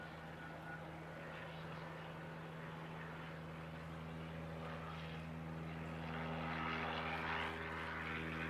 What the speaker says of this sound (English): So next to land will be that Bombardier Global 7500.